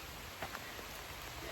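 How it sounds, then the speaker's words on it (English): Steady rain falls outdoors, a soft continuous hiss of drops on surfaces with a few slightly louder patters, faint and even throughout with no talking. "We are going to get soaked now, it's really raining."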